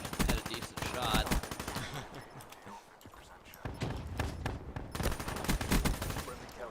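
Rapid gunfire bursts from a first-person shooter video game, dense crackling volleys repeating throughout with brief lulls, loud and continuous over game sound, with some talk mixed in.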